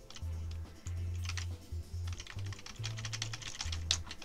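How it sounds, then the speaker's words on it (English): Rapid, clacky keystrokes on a loud computer keyboard in uneven bursts, close up, alongside a low intermittent electronic hum. "My keyboard's very loud."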